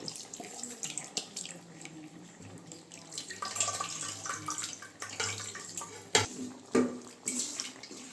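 Water poured into cooked dal while making parupu sambar, a steady running splash like a tap filling a vessel, continuous with a few sharper clinks near the end.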